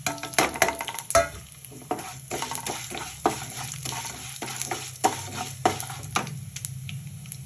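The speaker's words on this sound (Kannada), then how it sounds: "ಉದ್ದಿನ ಬೇಳೆ ಅಥವಾ ಉದ್ದಿನ ಕಾಳು ಹಾಕ್ತಾ ಇದ್ದೀನಿ. ಇದನ್ನು ಹುರ್ಕೊಳ್ಳೋಣ." Urad dal with cumin and sesame frying in a pan for a ridge gourd chutney, a soft sizzle under repeated clinks and scrapes of a spoon stirring against the metal.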